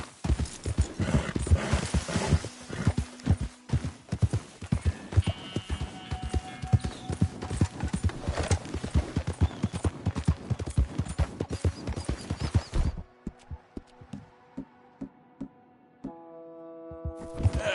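A ridden horse's hooves clip-clop in a quick, even rhythm, loud and close for most of the stretch, then fade to quieter, sparser steps near the end, with no talking over them.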